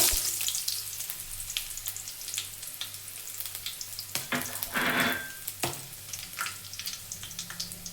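Garlic and about two inches of ginger crackle in hot oil for country-style chicken curry, a close steady sizzle punctuated by sharp utensil clicks and scrapes, with a brief louder burst of spitting midway.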